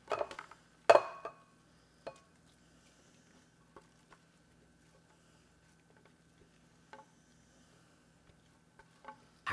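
Pesto pasta scooped into a bowl, with sparse clinks and scrapes of utensil against dish, one sharper knock early and then faint, scattered taps in a quiet room.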